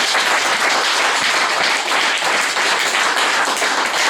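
Sustained applause from a church congregation at a Swahili service: a thick, even wash of many hands clapping together, loud and continuous with no pauses, and no voices rising above it.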